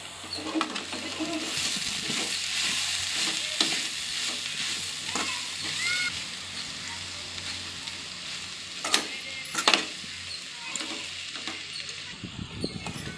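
Vegetables for a chapati stuffing sautéed in hot oil, a continuous sizzle with repeated scraping stirs of a spoon against the pan, close and fairly loud, with a few sharper knocks near the end.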